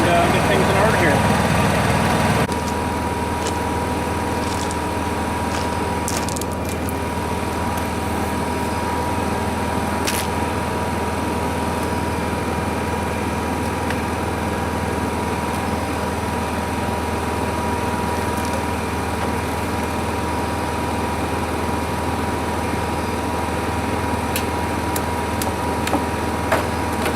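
A Honda 7000 generator idles steadily while it warms up, giving a constant mid-pitched engine drone with a low hum under it. A few faint clicks and knocks come from nearby. A louder burst at the very start settles into the even idle.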